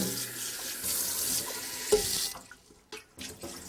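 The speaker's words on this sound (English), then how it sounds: "we're going to rinse the pan out in cold water so it doesn't scorch to the bottom of the pan" A cooking pan is rinsed under cold running tap water at a kitchen sink, a steady gushing stream for about two seconds, then the flow stops and a few brief splashes and clanks of the pan follow.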